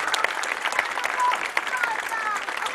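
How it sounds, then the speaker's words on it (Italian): Crowd applause at an evening ribbon cutting for a breast cancer prevention event in a town square in Roccadaspide, Italy, a dense, even patter of many hands clapping with cheering voices. "un grande applauso."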